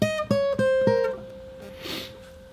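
Fingerstyle acoustic guitar run from The Mandalorian theme: four quick plucked notes in a row, each ringing briefly before the next, with the last note sustaining and fading, played alone and close.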